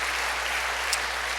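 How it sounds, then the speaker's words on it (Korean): Brief, steady applause for children from a church congregation, a dense patter of clapping with no voices over it. "저 아이들 박수 한번 쳐주시겠습니까?"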